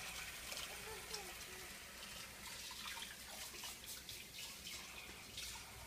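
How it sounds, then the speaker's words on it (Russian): Dishes being washed under a running kitchen tap, a steady hiss of flowing water with faint clinks, close by and continuous, with a voice briefly audible. "Помою посуду. Мою посуду."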